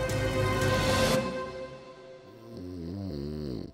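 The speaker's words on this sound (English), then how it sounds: "You can probably hear snoring." A person snores loudly nearby, a drawn-out rasping breath followed by rhythmic, pulsing snorts.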